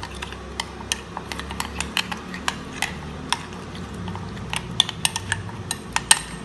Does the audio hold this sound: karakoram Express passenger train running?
no